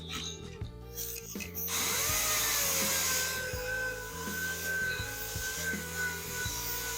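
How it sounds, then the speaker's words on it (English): Wet sanding a Chevy SS fender by hand with 3000 grit sandpaper, a steady close rubbing swish in repeated back-and-forth strokes, with a faint hum in the background. "So I'm just going to hit the fender with some 3000 grit."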